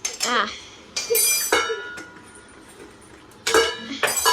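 Utensil clinking against a bowl while omelet batter is mixed with garam masala and turmeric, a few sharp metallic clinks in separate bursts with quieter gaps between.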